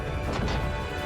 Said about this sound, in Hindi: तुम्हारी वजह से मेरा फोन गिर गया, समझे तुम?